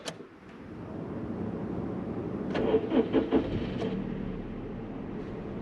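A Daihatsu Cuore's small engine cranks with a few quick chugs, catches, and settles into a steady idle in minus 12 degree cold; close and fairly loud, no talking.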